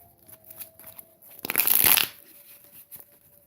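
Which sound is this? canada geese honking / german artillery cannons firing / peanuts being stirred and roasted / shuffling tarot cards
shuffling tarot cards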